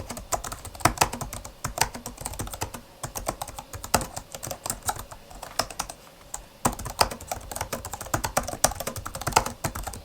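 Steady typing on a Jelly Comb KE68 non-mechanical keyboard, quick uneven keystrokes clattering close and continuous throughout, with a few brief pauses and no voices.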